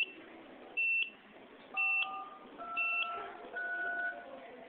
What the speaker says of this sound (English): we're going to have Ian send a command to remotely stop the falling LEDs and buzzing